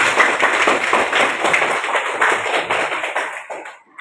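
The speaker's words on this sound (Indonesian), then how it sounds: "Boleh tepuk tangan buat kita semuanya hari ini?" A classroom of students claps hands together at a teacher's request, a dense patter of many hands sustained at close range for about four seconds before tapering off at the end.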